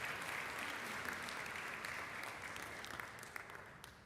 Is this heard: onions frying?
no